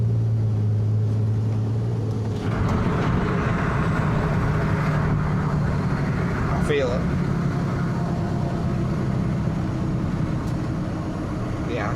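Cummins diesel tow truck with the exhaust brake engaged, a steady loud low engine drone and rumble heard from inside the cab, with people talking over it throughout.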